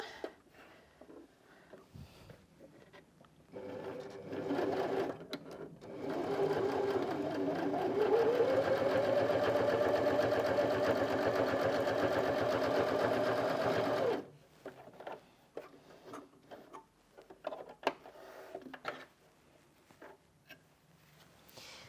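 A Janome Sewist 725s sewing machine stitches through eight layers of fabric with a steady, close mechanical whir that rises slightly in pitch. It runs for about eight seconds, with quieter handling clicks before and after.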